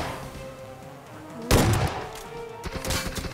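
An S12K shotgun fires in the mobile game Peace Elite, one sudden loud blast followed by a few quicker shots and rattling game effects over quiet background.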